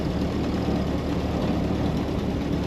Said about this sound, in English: Today we're driving a 1925 Model T.